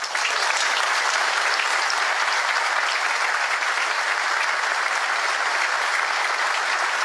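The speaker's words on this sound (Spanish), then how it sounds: "lo vamos a recibir a los compañeros con un fuerte aplauso." Steady, dense applause from a large audience welcoming union members at a truckers' union gathering, loud and continuous throughout with no gaps.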